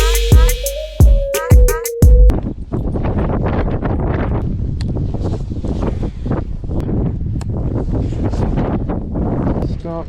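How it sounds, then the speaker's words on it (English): Strong, cold wind buffets a microphone on a bass fishing boat on the California Delta in winter, a loud continuous rushing roar that follows a few seconds of a sustained tonal beeping sound. "So wind's crazy, it's cold"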